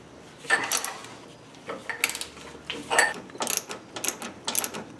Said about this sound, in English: The sway bar bracket bolts are 13mm. You can reach it from here, put a little bar in this, a little pipe.